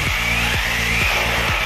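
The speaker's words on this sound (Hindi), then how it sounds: "ड्रिल करना पड़ता है इसमें इस तरीके से।" A power drill boring a hole while mounting an interactive flat panel, its motor whining steadily up close with four short rhythmic bursts of grinding, no talk.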